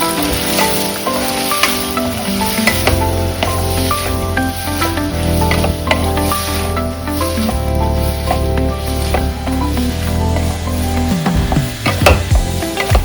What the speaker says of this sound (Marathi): नंतर पनीर पण असं परतून घ्यायचं